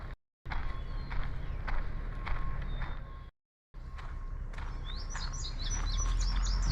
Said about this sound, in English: chirping away today. Whistling and singing their song as they go along.